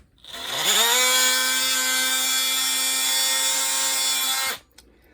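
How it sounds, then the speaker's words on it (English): A loud, steady buzzing whine from an oscillating multi-tool slicing threads off a narrowboat hull, running about four seconds before cutting off abruptly. "take the multi-tool and just slice some of those threads off"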